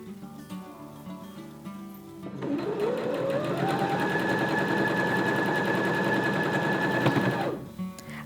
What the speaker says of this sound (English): It makes it easier to sew all these rows together into a patchwork square.